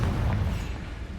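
Confringo explosive spell blast in Hogwarts Legacy, a dense low booming burst that rumbles steadily through the short moment, loud and close with no talk over it.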